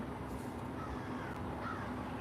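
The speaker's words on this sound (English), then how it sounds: "There's so many birds out, y'all." Birds call outside on a warm day in Pennsylvania, with a few faint, harsh caws over a steady outdoor background hum.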